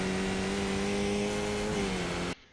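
A Skip Barber race car in iRacing climbs up through the gears, its steady engine drone rising then dipping at a shift before cutting off abruptly; the engine runs alone with no voices.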